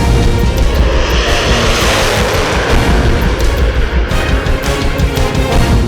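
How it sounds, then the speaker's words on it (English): An Indian Air Force Sukhoi Su-30 MKI fighter jet engine roars loudly and continuously, a dense, powerful rumble-and-hiss that fills the whole stretch without any speech. "The Sukhoi 30 MKI is every fighter pilot's dream machine."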